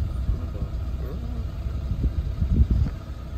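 A Range Rover Sport HSE engine idles with a low, uneven exhaust rumble, steady and close throughout, with voices talking over it.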